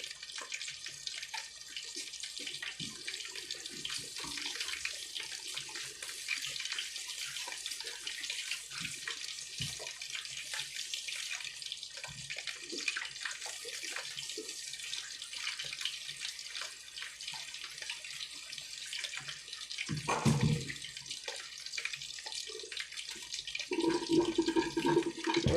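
Tap water runs steadily and loudly into a kitchen sink as potatoes are washed for curry chicken, a continuous broadband rush with occasional splashes and clunks from handling the potatoes under the stream, no talking.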